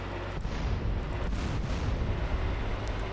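A dense, rumbling blast of noise fills the clip, a sustained explosive roar with a few sharper bursts, loud and close, from an explosion in GTA San Andreas.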